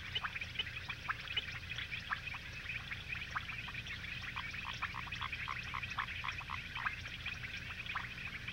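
A dense chorus of frogs and toads in the wet forests of tropical Africa, with many overlapping short clicking and croaking calls that go on without a break and sit at a steady, moderate level. No one speaks.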